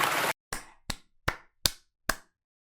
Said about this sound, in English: I don't think the audience was supposed to applaud that.